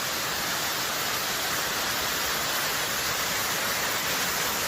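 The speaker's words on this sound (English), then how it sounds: "check out that waterfall." Steady broadband rush of a waterfall beside a small water source on a mountain trail, constant and fairly loud with no variation, heard alone without talk.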